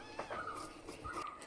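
A domestic cat in a village home gives two drawn-out, wailing meows close by, fairly faint against quiet background noise.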